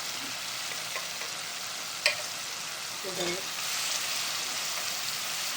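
Vegetables are stirred into a frying dry fish and spice mix for a Gujarati bhumla fish dish, giving a steady close sizzle with a sharp tap of the utensil and a brief scrape of stirring partway through.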